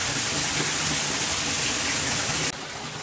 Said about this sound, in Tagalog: Kasi nga umuulan.